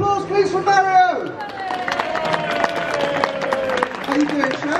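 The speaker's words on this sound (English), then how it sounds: "Big round of applause please for Mario!" Applause and cheering from a live crowd at a cooking demonstration rise out of fading voices, a dense patter of clapping that keeps up from start to finish alongside crowd noise.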